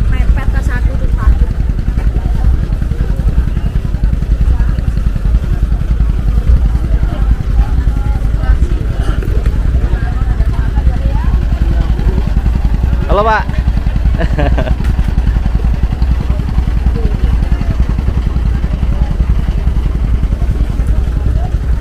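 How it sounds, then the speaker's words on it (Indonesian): A Mahakam river taxi boat, coming from Melak toward Samarinda, docks at the Tenggarong pier. Its engine drones loud, low and steady throughout, close by, while people briefly call out and a short rising tonal cry cuts in midway. "Jadi ini kapal pertama yang tiba ya guys, dari arah Ulu, tepatnya dari Kecamatan Melak menuju ke Samarinda"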